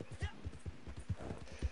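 Horse hooves galloping in the video game Red Dead Online, a steady rapid clip-clop rhythm of thudding beats over a short stretch, heard under voices talking.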